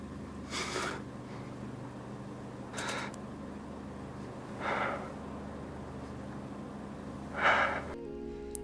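Slow, shallow breathing in a quiet horror film scene, four soft breaths spaced about two seconds apart over a low hum, ending abruptly.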